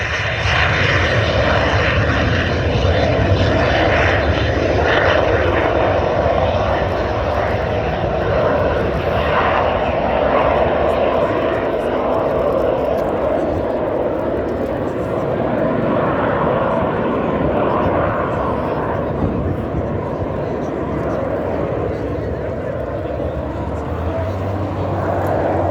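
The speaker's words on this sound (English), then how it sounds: "these aircraft are on the roll now" Two BAC Strikemaster jet aircraft roll along the runway at an airshow, making a loud, continuous engine roar throughout. A commentator's voice is heard over it at times.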